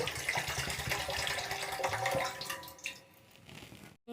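Water pours from a vessel into a cooking dish on a gas stove while making milk pitha, a continuous splashing gush that fades into lighter trickling before stopping near the end.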